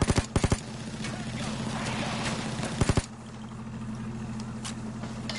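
Gunfire in the video game Payday 2, rapid bursts of automatic shots near the start and again around the middle, over a steady engine-like rumble that continues after the shooting stops.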